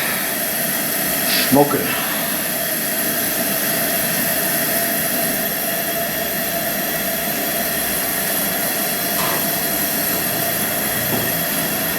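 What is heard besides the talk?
Coleman camp stove burner roaring while frying bacon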